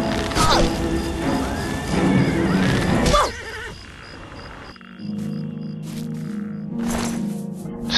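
A horse in the video game Oblivion whinnies sharply amid combat crashes and clanks, then the scene falls quieter with a steady insect-like chirping and a soft drone in the background.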